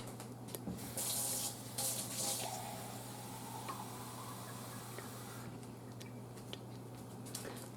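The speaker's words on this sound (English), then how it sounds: "So I'm going to put a half a can of water in, and I'm going to stir it around" Water poured from a can into an Instant Pot with steak and red gravy, then stirred: a few loud splashing bursts near the start, followed by softer, steady sloshing and a low constant hum underneath.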